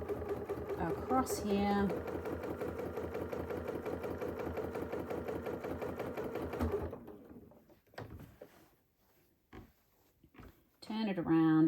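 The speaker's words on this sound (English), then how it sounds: "So I'm going to do my stitch near the ditch" A sewing machine stitches a free-motion quilt block in the ditch, running in a fast steady rhythm for about seven seconds, then stopping; brief handling clicks and a voice speaking follow.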